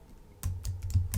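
Quick typing on a computer keyboard, with five or six close, crisp key taps in rapid succession and no voices.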